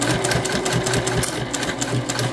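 A sewing machine runs steadily and close up, stitching fabric for a rustic book sleeve with foam padding, its rapid needle chatter and motor hum continuing without pause and with no talk.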